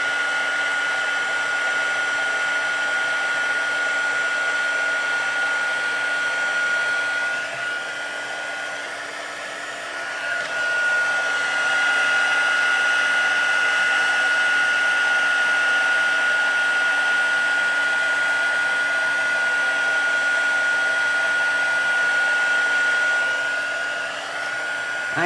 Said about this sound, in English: once the heat gun gets going